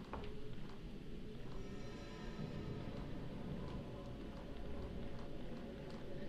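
Steady rain falls in the Project Zero video game, a constant hiss and patter of drops on surfaces that continues evenly with no break and no voices.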